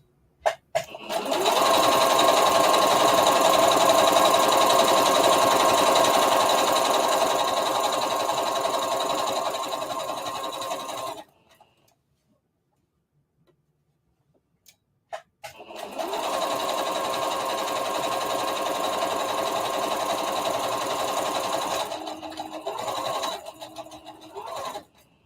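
A sewing machine stitches a circle dress in two long steady runs, loud and continuous, separated by a few seconds of near silence.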